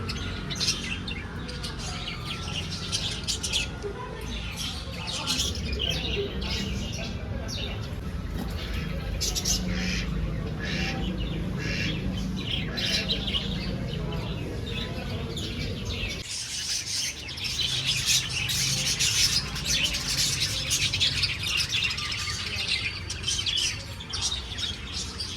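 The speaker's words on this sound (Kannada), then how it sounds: "ಲವ್ ಬರ್ಡ್ಸ್ ನೋಡಿ ಯಾವ ಥರ ಕ್ಯೂಟಾಗಿ ಕಾಣ್ತಿದೆ." Lovebirds chirp steadily at a temple during Naga Panchami, with bright, busy twittering running throughout over a constant murmur of background noise and faint voices.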